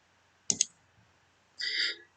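A mouse button on a computer gives a quick double click while pressing the create button in cPanel, followed shortly by a brief brighter tone; everything else is quiet.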